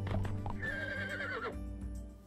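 A video game horse whinnies loudly for about a second, its shrill neigh rising and wavering, with clopping hooves and low background rumble throughout.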